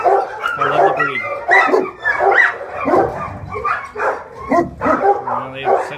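Shelter dogs bark in a loud, continuous chorus of overlapping barks and yips, with some whining, all close and reverberant in the kennel space.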